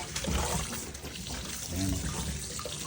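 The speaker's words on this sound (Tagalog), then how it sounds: "Tapos lagi natin pabanlawan." Tap water runs into a sink while an octopus is rinsed under it for sisig, a steady close splashing wash with brief handling sounds and no talk.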